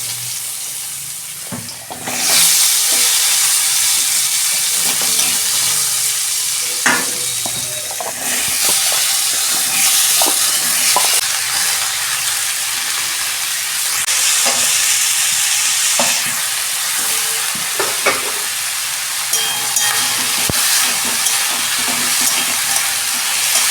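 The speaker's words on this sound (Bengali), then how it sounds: "ওই তেলেই আমি সবজিগুলো ভেজে নিচ্ছি।" Vegetables frying in oil after a hilsa fish head has been fried for a curry, a steady loud sizzle and hiss with stirring scrapes and clinks throughout, no talking.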